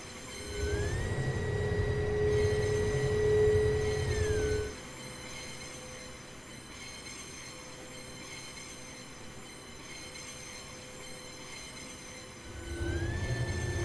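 Javelin railtour train coasting slowly along the rails, its wheels squealing loudly at the start and end with a quieter steady rolling rumble between.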